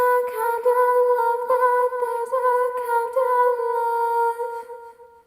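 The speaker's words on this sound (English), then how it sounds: "I think I put a bunch of echo on it though, so it sounds like this." A sung vocal line drenched in heavy echo holds steady sustained tones. Repeating reflections blur each note together, and the sound gradually fades away at the end.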